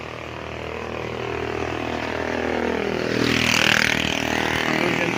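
A loud motor engine near a long roadside frontage of a farm lot in Pila, Laguna, rising as it passes close by and peaking around midway, with steady broadband roar and no talk.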